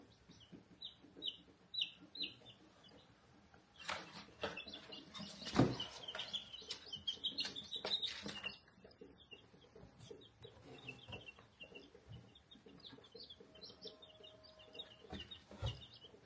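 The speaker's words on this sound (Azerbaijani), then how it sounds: "İndi qoyuruq cücələri təzə yuvalarına." Chicks of the Australorp breed cheep in repeated high bursts while they are placed into a new nest, accompanied by rustling and handling noises, close by and fairly quiet.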